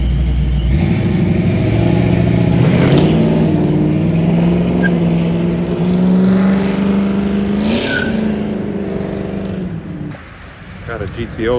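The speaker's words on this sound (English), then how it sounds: "Got a GTO leaving" Pontiac GTO accelerating hard away from a car meet, engine revving up through rising pitch and passing nearby before fading, with voices in the background.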